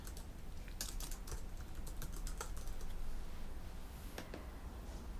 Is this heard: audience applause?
no